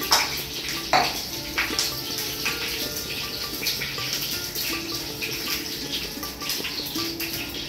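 Bay leaf and dried chili sizzle in hot oil in a home kitchen, a steady crackling hiss with a few sharper pops near the start, moderately close and alone.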